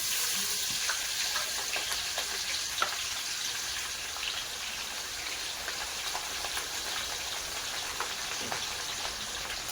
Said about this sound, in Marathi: हिरवी मिरची तळून घ्यायची आपल्याला